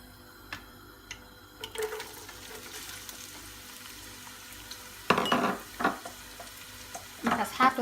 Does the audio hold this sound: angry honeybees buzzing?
no